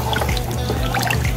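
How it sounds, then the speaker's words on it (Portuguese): Water pours steadily into a pot for feijoada on a wood-fired stove, a continuous splashing, gurgling trickle, close and fairly loud, with no talking. "Aqui agora eu coloco a água, tá vendo?"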